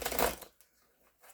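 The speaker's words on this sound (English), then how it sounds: "let's give him one big last shuffle" A deck of tarot cards is given one quick shuffle, a brief, close riffle of rustling card edges lasting under half a second before fading to near silence.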